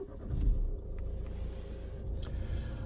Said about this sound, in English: So I'm going to start the car up. You can hear it running.